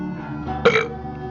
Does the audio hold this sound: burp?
yes